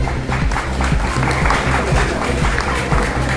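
An audience at a municipal council public outreach camp in Chiplun claps steadily for the organisers, a dense, loud, continuous patter of many hands with a faint crowd murmur underneath.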